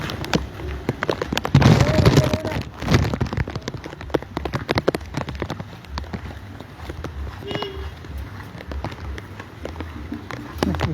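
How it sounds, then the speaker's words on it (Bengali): Heavy rain pours onto flooded streets, dense pattering and splashing drops with sharp ticks, and voices occasionally heard among the downpour. "রাস্তাঘাট বৃষ্টিতে ভরে গেছে,"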